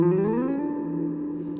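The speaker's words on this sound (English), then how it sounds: "A guitar slide looks and sounds like this." Single electric guitar slide, a sustained distorted note gliding upward in pitch and then holding, with a reverberant tail, played alone.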